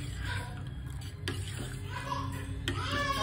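A paste of ajwain being stirred in a pot, with quiet scraping and a few sharp clinks of a utensil against the metal, faint and close, under a low background hum.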